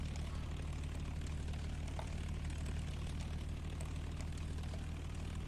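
Spitfire Mk.I engine idling at zero throttle in X-Plane 10, a steady low droning rumble with even propeller throb, continuous and unchanging, no voices.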